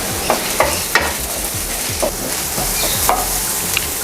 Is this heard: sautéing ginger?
yes